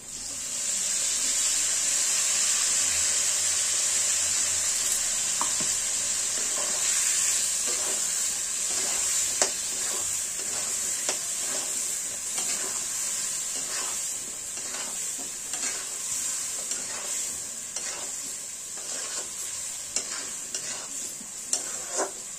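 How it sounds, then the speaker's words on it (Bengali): Potatoes stir-fry with a paste of ginger, garlic, onion, turmeric and chilli powder, making a steady close sizzle broken by repeated scraping stirs of a spatula against the pan throughout. "এবার আমরা আদা, রসুন, পেঁয়াজ, হলুদ গুঁড়ো, লঙ্কা গুঁড়ো এই মশলার পেস্টটা করে রেখেছি, সেইগুলো এই আলুর মধ্যে দিয়ে আমরা কষিয়ে নেব।"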